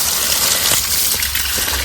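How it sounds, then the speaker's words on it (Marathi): Green chillies are swished and washed by hand in a vessel of water, giving a close, continuous sloshing and gushing with small splashes. "आपण ह्या ना मोकळ्या पाण्यात अशा धुवून घ्यायच्या मिरच्या"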